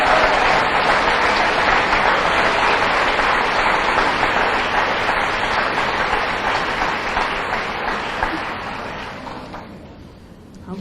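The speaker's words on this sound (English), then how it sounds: "I think it'd be appropriate to have one last round of applause for all of these nice young ladies." A pageant audience gives a long, full round of applause for the contestants, a thick, even roar of clapping that slowly tapers off toward the end.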